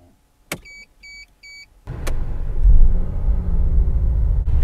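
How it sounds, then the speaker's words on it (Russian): A Mercedes G63 AMG, a Gelandewagen, is started from inside: door-chime beeps, a sharp starter click, then a second crank as the engine catches and settles into a loud, deep rumbling idle that continues to the end. "заводим машину."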